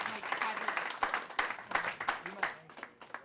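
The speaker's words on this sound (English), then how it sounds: "Give them a nice round of applause." A comedy show audience claps, a scattered mid-level burst of applause that gradually thins out, with a voice speaking over it.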